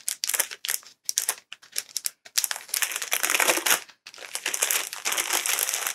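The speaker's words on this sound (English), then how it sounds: "Perhaps talking and unwrapping at the same time isn't smart." Mystery box packaging is torn and unwrapped up close, giving loud crinkling and rustling in choppy bursts that build into longer stretches of crackling wrapper.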